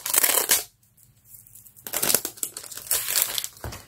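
Plastic wrapping from a scrapbooking parcel crinkles and crunches as it is handled close by, with a brief quiet pause midway before more rustling and crackling.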